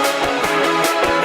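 Thin, hollow wash of music with little low end, a hissy, phasey stereo sound pulsing with faint rhythmic hits, no voices.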